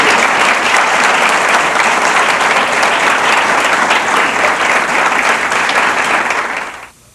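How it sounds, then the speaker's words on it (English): A crowd gives loud, sustained applause for soldiers graduating from Fort Sill basic training in 1987, dense and close clapping that fills the room before fading out abruptly at the end. "Please join me in giving a round of applause for these proud soldiers."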